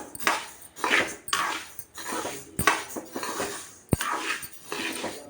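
Mustard seeds being dry roasted in a pan for mango pickle, with repeated close scraping strokes of a metal spoon and clinks against the pan as it is stirred steadily.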